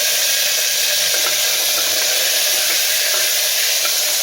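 Green chillies and curry leaves sizzle steadily in hot oil for a stuffed vegetable lunch dish, a close, continuous bright crackling hiss with no voices.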